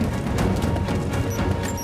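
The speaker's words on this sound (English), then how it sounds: "Throwing a grenade!" A grenade blast in Rise of the Tomb Raider, a dense, loud rumbling crash of low-end boom and debris that fills the whole couple of seconds, with busy combat noise around it.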